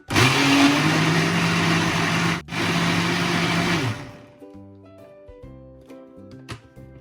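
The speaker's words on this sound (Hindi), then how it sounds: "अब हम जो लेमन जूस हमने निकाला था वो भी इसमें शामिल कर देंगे और इसको फिर दोबारा थोड़ी देर ब्लेंड कर लेंगे" A kitchen blender whirs loudly and steadily for about four seconds, blending berry pink lemonade with added lemon juice, then winds down with a faint clatter.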